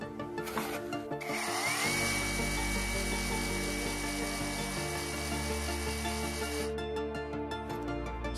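A Parkside cordless rotary hammer drills at speed one, whining steadily after a brief start-up, with a loud continuous motor tone that cuts off near the end.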